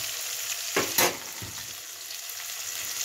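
Raw onion and a little sugar frying in a pan, a continuous close sizzle with a few sharp stirring scrapes near the start, no talking.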